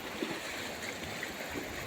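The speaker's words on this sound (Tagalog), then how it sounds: "Pagkatapos ng napakalakas na baha, ito na yung ilog, oh." A river swollen after a strong flood rushes with broad, steady watery noise throughout, close and fairly loud, with no voices.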